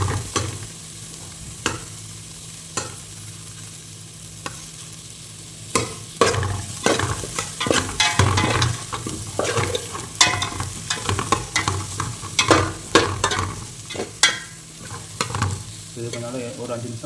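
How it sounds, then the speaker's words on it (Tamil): Onions sauté in oil for a Tamil Nadu style fish curry, a constant sizzle broken by repeated scraping and stirring strokes that grow busier and louder partway through, with no talking. "கொஞ்சம் எண்ணெயில் கொஞ்சம் வதங்கணும்."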